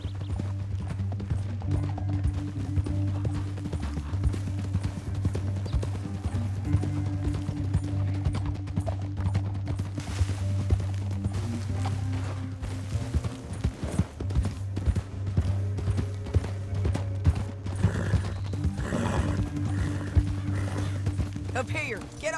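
Horse hooves gallop in Red Dead Redemption 2, a steady fast clatter under continuous game music and gunfire-like bangs, with voices talking over it.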